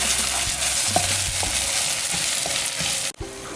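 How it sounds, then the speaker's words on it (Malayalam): Chicken masala sautéing in hot oil while being stirred, a steady close sizzle with scraping stir strokes that cuts off abruptly near the end. "എന്നിട്ട് ഇത് നന്നായി എണ്ണ തെളിയുന്നത് വരെ ഒന്ന് വഴറ്റി കൊടുക്കാം"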